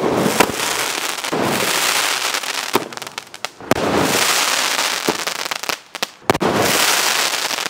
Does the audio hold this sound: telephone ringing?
no